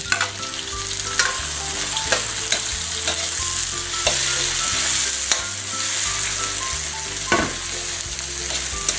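Onions and tomatoes fry together in a pan, a steady close sizzle with scraping stir strokes and occasional clinks of a utensil against the pan, no voices.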